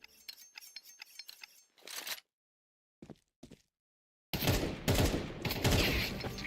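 Gunfire in a competitive shooter video game, with a rapid run of sharp shots, a brief gap, a couple of isolated cracks, then a loud sustained barrage.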